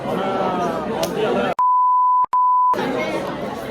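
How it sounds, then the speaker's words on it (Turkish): A censor bleep added in editing cuts through lively background chatter, a single steady electronic tone lasting about a second, split by a brief gap, then the chatter resumes. "Bip atarız."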